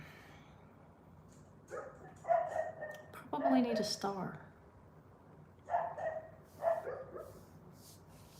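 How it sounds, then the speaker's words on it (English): Dogs bark at a homestead gate in two short clusters of sharp, moderately near barks while someone talks quietly. "Can y'all hear the dogs barking?"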